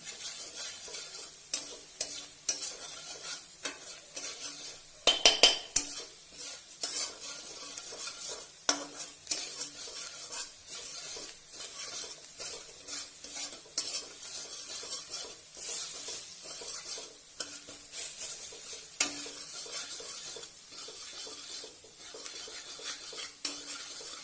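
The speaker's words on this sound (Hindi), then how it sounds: "ये नमक, हल्दी, मिर्च, तो भूनेंगे।" Salt, turmeric and chili roast in a pan for egg pao bhaji gravy, with a soft continuous sizzle under repeated scraping and clinking of a spoon against the metal, including a brief louder clatter, close and without speech.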